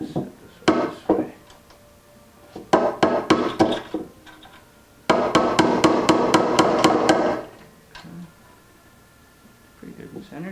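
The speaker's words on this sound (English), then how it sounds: "And I got these somewhat longer nails, we can just pop them in." Hammer driving longer nails into a wooden shot glass shelf in a workshop, with bursts of loud, rapid, sharp strikes that come close together and then a long steady run of blows before quiet, with some speech around them.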